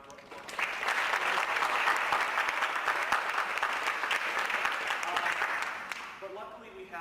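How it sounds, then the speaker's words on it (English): Sustained round of applause from a graduate open house audience at a school of communication and information, swelling quickly and tapering off before a voice resumes speaking. "So why don't we give Dr. B another round of applause."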